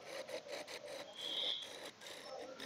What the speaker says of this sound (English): And back to the spindle gouge. And the shaping on this.